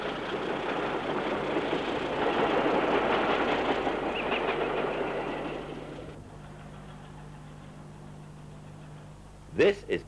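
British Rail Class 27 diesel 27012 works a Dundee to Edinburgh train south of Markinch, a loud rolling roar for about six seconds that drops to a quieter rumble, with two brief sharp knocks near the end.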